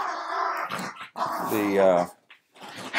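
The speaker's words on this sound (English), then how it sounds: "If you hear growling and playing in the background." Dogs growl and snarl playfully up close, with short bursts of grumbling and a brief yelp, a voice mixed in.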